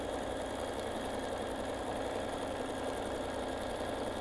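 A sewing machine running fast while free-motion quilting a fabric tabletop Christmas tree, a steady, dense mechanical whir with rapid stitching rhythm, close and continuous without pauses.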